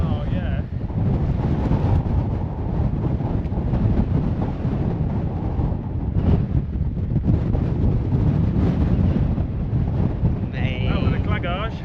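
Strong wind buffets the microphone in a steady, loud roar throughout a wet, windy mountain walk on the Kentmere horseshoe in the Lake District fells, with a voice speaking briefly near the end.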